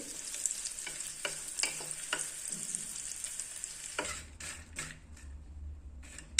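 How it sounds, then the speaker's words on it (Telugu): Mutton pieces fry in oil over a medium flame for a dry mutton curry, giving a steady sizzle with scattered crackles and spoon-scraping clatters close by. No one speaks. "మటన్ పీసులు వేసుకునేస్తాము వీటిని ఆయిల్లో బాగా వేయించుకోవాలి మీడియం ఫ్లేమ్లో ఒక ఫైవ్ మినిట్స్ అండి"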